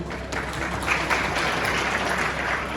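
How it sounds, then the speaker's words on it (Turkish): A crowd claps steadily and evenly for Saffet Kaya at a community gathering in Esenyurt, Istanbul, a brief continuous burst of applause at moderate loudness. "Evet, alkışlar Sayın Saffet Kaya gelsin."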